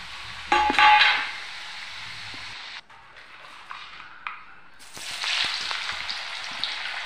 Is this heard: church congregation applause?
no